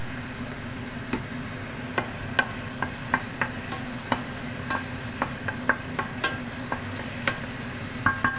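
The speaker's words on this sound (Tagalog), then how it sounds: "Fried onions." Onions frying in a pan for ginataang monggo, a soft steady sizzle punctuated by repeated clicking knocks of a spatula stirring against the pan, close up.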